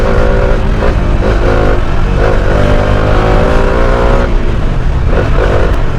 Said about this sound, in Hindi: जैसे ही मैं ज़्यादा देर ऐसे रेव करता रहूँगा ना